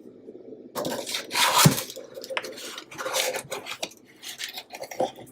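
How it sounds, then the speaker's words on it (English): A spatula scrapes and clatters against a metal pan of baked honey bun cake in a home kitchen, giving close, irregular metallic scraping with a few sharper knocks. "let me grab a spatula"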